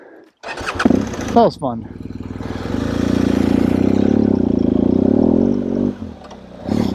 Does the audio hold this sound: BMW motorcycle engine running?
yes